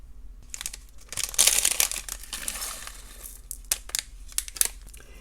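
A packaged bead box is opened by hand, with close crinkling and tearing of wrapping that peaks early, then scattered rustles and small clicks.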